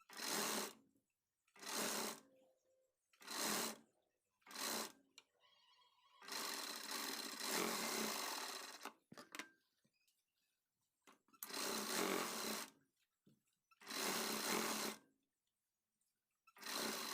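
A sewing machine stitches a customer's blouse in short bursts, each run a few seconds long, separated by silent pauses, with one longer stretch of stitching midway; close and fairly quiet.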